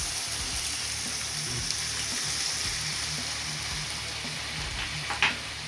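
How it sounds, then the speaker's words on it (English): Chicken marinated in Italian dressing frying in avocado oil, a steady, close sizzle with crackling hiss running unbroken throughout, one brief louder pop near the end. "We're gonna let that fry up in some avocado oil"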